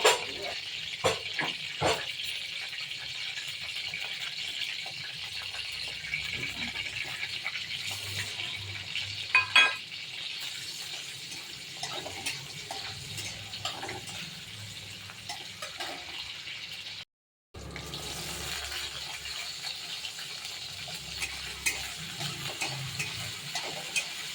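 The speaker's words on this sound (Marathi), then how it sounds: "कढीपत्ता एकदम क्रिस्पी होस्त तळून घेतला मग त्याच्यात मोहरी घातली" Curry leaves and mustard seeds frying in hot oil for upma, a steady low crackling sizzle with occasional stirring scrapes, running continuously with a brief drop-out near the end.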